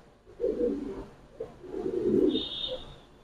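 Pigeons coo at a pigeon seller's stall, with two soft, low cooing bursts close by and a brief higher chirp near the end. No one speaks.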